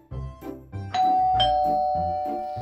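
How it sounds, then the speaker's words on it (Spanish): A doorbell at a house on Halloween night in a children's cartoon gives a clear, loud ding-dong chime, its bright tones ringing on and sustaining over soft background music. "¡Oh! ¡Un timbre!"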